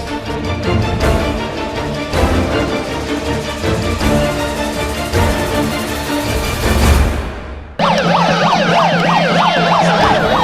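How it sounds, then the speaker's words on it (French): A wailing siren grows steadily louder over engine noise and traffic, then switches to a fast warbling yelp near the end. "Au son lointain de la sirène qui se rapproche à vive allure vers l'ordre délibérant provincial"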